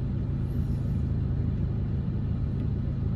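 Inside a moving car: a steady, loud low rumble of road and engine noise fills the cabin continuously, with no voices.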